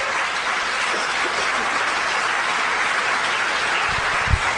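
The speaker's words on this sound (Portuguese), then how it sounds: "Aplauda Jesus." Continuous applause from a church congregation, a dense steady wash of clapping at moderate loudness with a couple of low thumps near the end.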